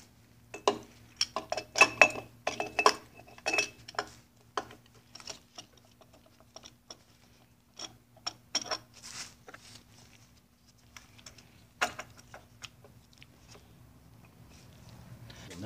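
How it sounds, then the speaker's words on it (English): Small metal parts clink and tap in irregular bursts as a carburetor is fitted onto a 1977 Evinrude 4 HP outboard motor, close by with quiet gaps and a faint steady hum underneath. "Now I will install the carburetor."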